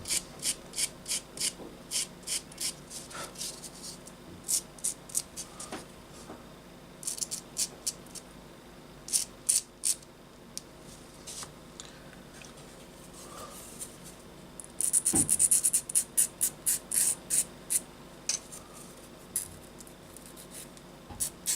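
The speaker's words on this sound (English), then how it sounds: "we shall sand off the sharp parts." Sanding sharp edges off a small plastic part from an Eduard Bf 109G-2 scale model kit, with short repeated rasping strokes in quick bursts, close and fairly quiet, a denser run of strokes near the middle.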